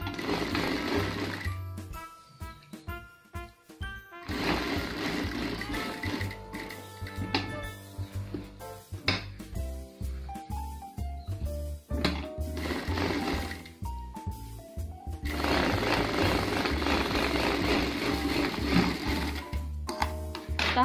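A sewing machine stitching the facing of a night gown, running in several bursts of rapid, loud mechanical needle clatter separated by short pauses, heard close with no talk.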